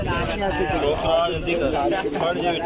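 Pigeons coo steadily in the background while people talk close by over a busy, noisy scene at a pigeon-flying tournament in Minchinabad.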